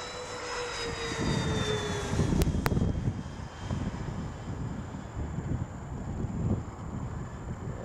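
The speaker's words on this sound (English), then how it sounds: "downwind full throttle pass" A FlightLineRC F7F-3 Tigercat twin-engine radio-control model plane makes a full-throttle pass at an airfield, its high engine whine sliding down in pitch as it passes over a steady wind rumble.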